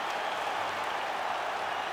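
A fight crowd applauds and cheers at the finish of a full 25-minute bout, a dense, steady wash of clapping and roaring that fills the whole moment.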